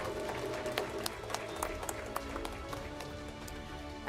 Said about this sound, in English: A good round of applause for all our winners.